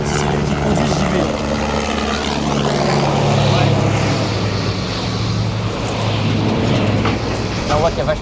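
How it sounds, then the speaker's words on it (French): Loud helicopter rotor thumping close by at a large wildfire, mixed with aircraft engine drone and people talking underneath. "Des hélicoptères là."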